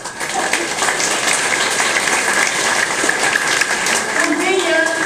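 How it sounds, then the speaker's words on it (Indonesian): Audience applause during a talk at an industry and small-business event, a steady bed of clapping throughout with a voice briefly audible near the end. "Tepuk tangan."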